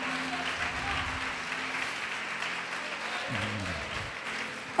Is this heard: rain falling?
no